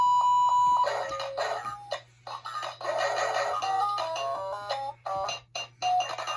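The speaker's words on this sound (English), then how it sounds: "if you press the nose, it beeps. And if you hold the nose, it'll go through the sound test" An iDog pup robot dog toy cycles through its sound test mode, playing a series of electronic beeps and short synthesized tune phrases with brief silent gaps between them, close and clear, with a steady low hum underneath.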